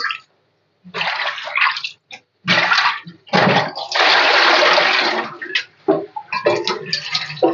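Tap water runs in bursts as meat is rinsed several times in a home kitchen, with stretches of heavy splashing broken by short pauses and one long continuous pour near the middle.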